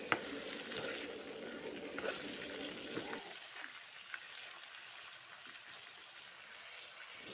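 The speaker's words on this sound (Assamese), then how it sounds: "আৰু এয়া আদা নহৰু পেষ্ট এইখিনি অকণমান ভাজি ল'ম" Ginger-garlic paste fries in hot oil with browned onion, drumstick pieces and potatoes. The pan sizzles steadily, with stirring scrapes at first, then settles into a quieter, continuous crackle.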